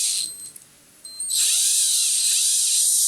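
A power drill bores a countersink hole while making a DIY lure turner from a cheap tumbler turner, giving a short high whine, a pause, then a louder sustained whirr that wavers in pitch.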